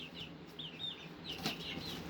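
Chickens cluck softly in short repeated calls over a quiet background, fairly near but gentle, with a brief flutter midway.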